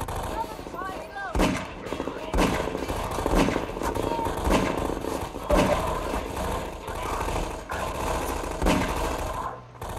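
Dense, continuous gunfire from the PC shooter Half-Life 2: Episode One, with heavy bursts and rumbling blasts layered over a busy game soundscape, with some voices mixed in.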